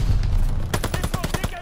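Rapid bursts of rifle and machine-gun fire in a Call of Duty Vanguard campaign battle at a minefield and bunker, clustered shots starting midway, loud and close over rumbling background.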